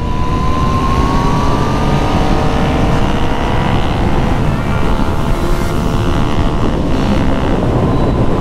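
A KTM RC 125 motorcycle is ridden at around 100–110 km/h, with a steady loud engine drone and heavy wind rush continuous throughout, heard close from the rider's position with no talking.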